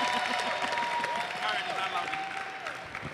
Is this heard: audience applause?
yes